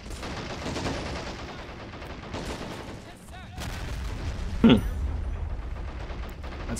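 Gunfire from a tank and infantry in Men of War Assault Squad 2 with T23 and M6 heavy tanks: scattered shots and rattling bursts under talk, with one sharp louder crack near the end.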